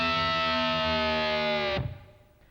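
Distorted electric guitar plays two joined licks, a dense sustained lead with bends that rings loud and close, then cuts off sharply near the end and leaves fading noise.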